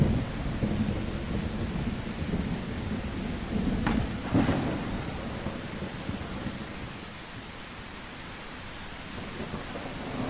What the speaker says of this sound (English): this storm is a storming!